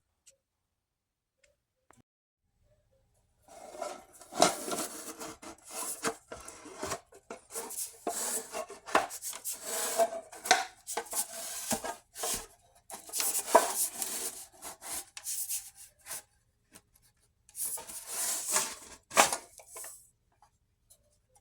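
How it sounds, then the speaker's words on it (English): A tight old paint can lid is pried open after sitting for a year or two, making close scraping, ticking and rasping metal sounds in uneven bursts, with quiet before the prying starts and pauses between efforts. "I'm gonna pry it open right now"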